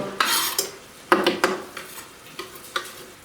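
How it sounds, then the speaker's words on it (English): Browned beef mince and onion stirred in a pan with a utensil, a few scraping, rustling strokes with light sizzle, close and fairly quiet, without speech. "Just give that a good mix around."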